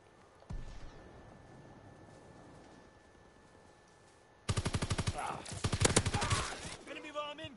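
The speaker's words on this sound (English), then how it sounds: "Enemy strafing run incoming." An enemy aircraft strafing run in a video game: a quiet stretch with a faint thud, then a sudden loud, rapid stream of machine-gun fire that pounds on and off through the last few seconds.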